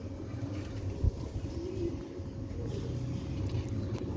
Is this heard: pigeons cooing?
yes